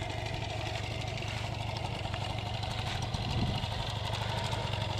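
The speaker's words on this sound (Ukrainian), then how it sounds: "Вихлоп шикарний, працює рівно, тихенько, ніяких проблем." Honda Dio scooter engine idling steadily and quietly at minimum revs, a low even putter held close and constant without pauses.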